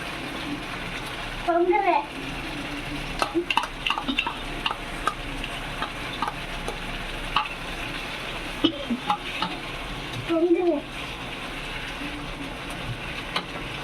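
Food sizzles steadily in a pan as a spoon of yogurt is added for palak paneer gravy, while a spoon scrapes and stirs at intervals, with a couple of louder bursts of sizzling.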